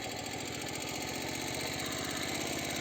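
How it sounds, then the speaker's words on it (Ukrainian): A Motor Sich walk-behind tractor engine chugs steadily in second gear while pulling a homemade cultivator, its continuous thumping drone loud and close throughout. "І 200 обертів, мотоблок іде легко."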